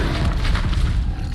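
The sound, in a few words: Expelliarmus spell cast in a Hogwarts video game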